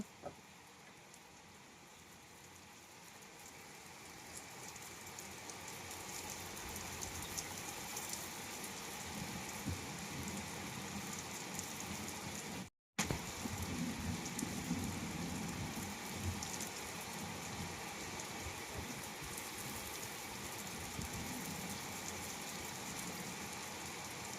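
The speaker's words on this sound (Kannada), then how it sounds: "ಕೇಳಿಸ್ತಾ ಇದ್ರಲ್ಲ ಸೌಂಡ್ ಆ ಮಳೆ ವಾತಾವರಣ" Steady rain falls in a continuous, even hiss of drops, fairly soft and unbroken, with no voices over it.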